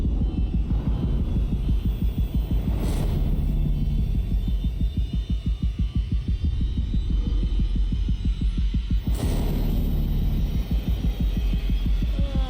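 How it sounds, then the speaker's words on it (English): A video game's heartbeat sound effect: a steady, fast run of deep throbbing pulses over a low hum that continues throughout, with two brief bright swells along the way. "The heart beating."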